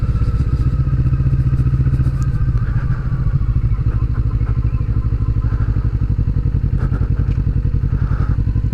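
A 2020 Kawasaki Vulcan S motorcycle engine rumbles on a ride, a loud, steady low-pitched thumping pulse with rapid even beats, close up and continuous, with light clatter and no speech.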